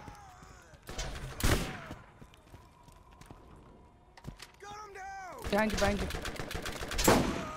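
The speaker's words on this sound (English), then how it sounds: "Someone shooting at you?" Gunfire bursts in the co-op shooter game Borderlands, a few sharp loud volleys scattered across the moment, mixed with other game effects while two players talk.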